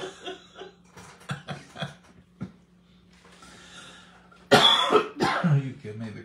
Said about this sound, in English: You give me the coughs.